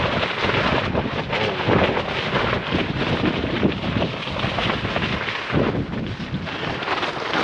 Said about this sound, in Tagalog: Narinig niya ba yung hangin mga bro?